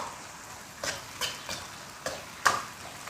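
Pickled vegetables and wild chilies being stir-fried in a wok, a steady sizzle broken by five sharp scraping stirs spaced about half a second apart, the last one loudest.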